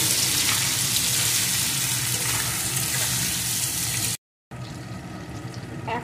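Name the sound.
vegetables frying in pan with salt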